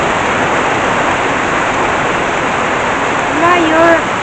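Heavy midday rain pours down in a steady, loud, unbroken hiss of drops, close by, with a brief tonal sound near the end.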